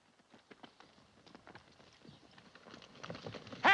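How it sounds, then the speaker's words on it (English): Horse hooves clip-clop at a brisk trot, faint at first and growing louder as they approach, ending in a loud burst. "Those are our horses."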